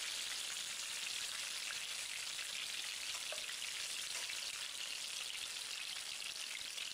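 Chicken leg pieces fry in a pan with a steady, bright, hissing sizzle that continues evenly and fairly softly, with no talking.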